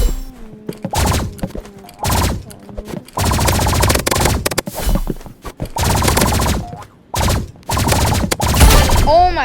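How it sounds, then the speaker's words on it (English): Rapid energy pistol fire in the shooter game Rivals, bursts of sharp shots in quick runs with short gaps, loud and close, with a voice talking over the gunfire. "Get some pre-fire shots on her"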